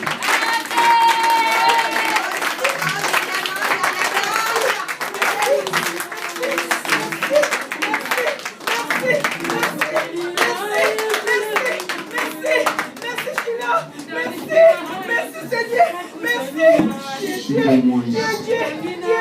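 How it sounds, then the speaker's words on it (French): Church congregation clapping in rhythm and acclaiming, with steady hand claps mixed with singing and voices calling out throughout, lively and reverberant. "Acclamons très fort pour le Seigneur."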